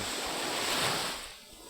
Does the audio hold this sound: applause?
no